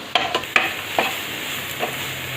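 Soft leafy palak being stirred and sautéed in groundnut oil in a pan for lemon rice, a steady close sizzle broken by several distinct scraping stir strokes, no talking.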